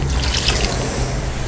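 Water poured into a pan of Chettinad egg curry masala, giving a steady close trickle and splash that runs without a break under faint background hum.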